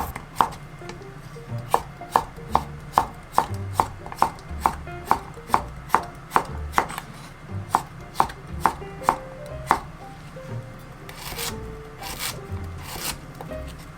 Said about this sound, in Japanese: きゅうりは縦半分に切って斜め薄切りにします。